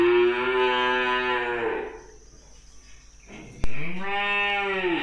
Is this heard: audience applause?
no